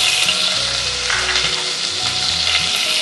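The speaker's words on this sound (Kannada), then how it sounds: "ಈಗ ಕರಿಬೇವಿನ ಸೊಪ್ಪು ಹಾಕ್ತಾ ಇದ್ದೀನಿ. ಮತ್ತು ಈರುಳ್ಳಿ ಕೂಡ ಹಾಕ್ಕೊಳ್ತಾ ಇದ್ದೀನಿ." Curry leaves and onion fry in hot oil for avarekalu huli saaru, a steady loud sizzle and crackle close by with faint stirring scrapes, no voices.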